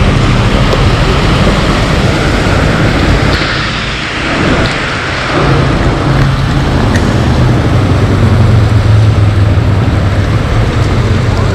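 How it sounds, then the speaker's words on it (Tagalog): Rain roars during a car joyride, a loud continuous wash of drops and road noise that briefly dips midway before swelling again, with a low engine rumble underneath. "Ay, nabutan tayo ng ulan."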